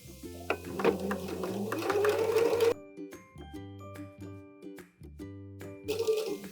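A sewing machine stitches a dart at an angle off the edge of fabric, running in loud bursts of rapid mechanical whirring that stop and restart between pauses, close up.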